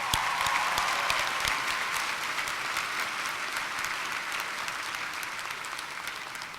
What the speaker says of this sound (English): How about a round of applause for those who have worked for your success?